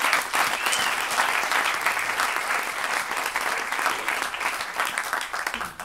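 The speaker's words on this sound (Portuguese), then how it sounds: "Um forte aplauso para ele, senhoras e senhores." Sustained applause from an audience at a comedy roast, dense steady clapping that stays loud throughout and tapers slightly at the end.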